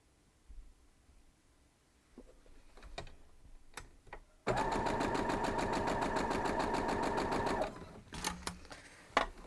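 Sewing machine stitching a gallery star quilt block, a fast rhythmic mechanical whir running for about three seconds. It is framed by soft handling clicks and fabric shuffling before and after.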